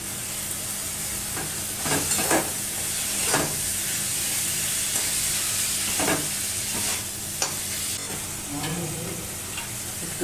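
Banana stem and prawns with green chilli and salt fry in a pan, a constant loud sizzle and hiss, broken by occasional clinks and scrapes of stirring.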